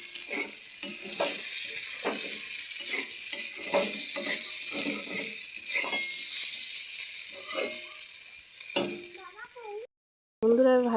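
Vegetable bhaji frying in an uncovered pan, a continuous close sizzle with repeated stirring scrapes, ending with a brief clatter of utensils.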